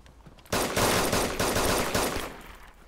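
Gunfire in a DayZ-style survival shooter, a loud burst of rapid automatic shots rattling for about two seconds after a quiet start, then fading out.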